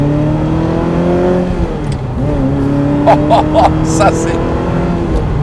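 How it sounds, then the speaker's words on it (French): A Ferrari F355 V8 engine runs close, its pitch rising and dipping through a couple of blips, while someone speaks briefly over the rumble toward the end. "Allez, on va faire chanter un petit peu ce V8."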